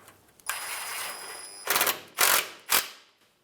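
Bolts go back into the rear differential damper mount of a 2003-2011 Honda Element, first a long ratcheting whir, then three short, sharp bursts of a tool, close up with no talking.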